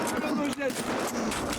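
A shotgun fires in a video game, sharp broadband blasts that punch through someone talking over the gameplay.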